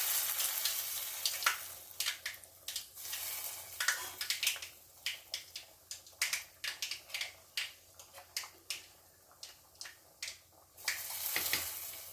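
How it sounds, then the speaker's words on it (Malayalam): Mustard seeds spluttering in hot oil in a pan, a close, quiet run of sharp crackles and pops coming in irregular bursts over a low sizzle, with no talking. "കടുക് പൊട്ടുന്നതേ ഉള്ളൂ"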